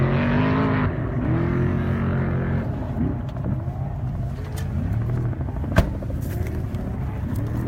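An off-road race vehicle roars past during qualifying at the 2018 Parker 425 desert race, kicking up heavy dust. Its engine drones loud and steady throughout, with the note rising and shifting as it passes.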